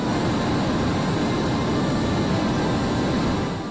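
A steady, loud airplane engine drones without pause in the flying game Sky Odyssey, a dense continuous roar with no speech.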